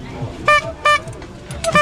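Several short car horn toots in quick succession, fairly close, with faint background noise between them.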